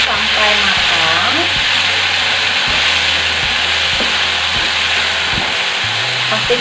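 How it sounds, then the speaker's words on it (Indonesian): Chili seasoning paste for green-chili chicken skin sizzles and spatters loudly in a hot pan, with a spatula scraping and stirring at steady intervals throughout. "setelah bumbunya masuk, lalu aku mau tumis sampai matang"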